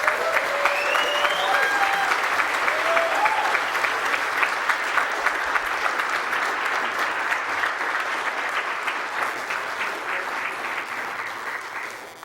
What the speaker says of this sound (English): Let's get one more round of applause for the Batman runners.